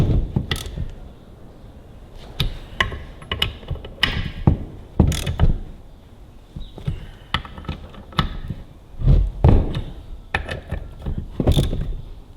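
A hand ratchet tightens bolts on the hydraulic cover of a Ferguson TEA20 tractor, in quick bursts of close, sharp clicking separated by short pauses and a few louder knocks of tool against metal.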